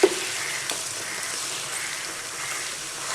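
Pieces of chicken fry in oil in a pan, giving a steady, close, broadband sizzle with a brief clatter at the start.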